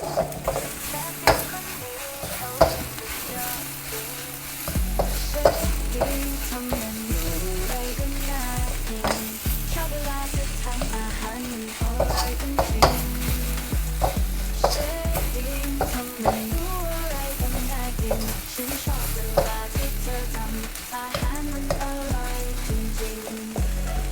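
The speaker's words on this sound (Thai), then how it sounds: "เนี่ยครับ ผัดให้จนข้างล่างแห้งเลยนะครับ" A chili mixture stir-fried in a pan until dry, with a steady loud sizzle and constant scraping and stirring strokes running throughout, close and without talk.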